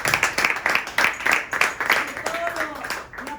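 An audience at an event on rights and abuse survivors breaks into applause, dense clapping close by with voices mixed in underneath.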